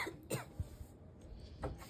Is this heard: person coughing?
yes